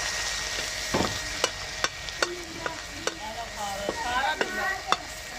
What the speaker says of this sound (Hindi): इसमें भी घी डालेंगे तड़कने के लिए।